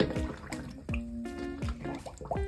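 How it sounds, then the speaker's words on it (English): A handbag, straps removed, is pushed under hot soapy water in a sink, giving close wet drips, squishes and sloshing gurgles in several short bursts with no talk. "we're just going to completely submerge the bag into the water"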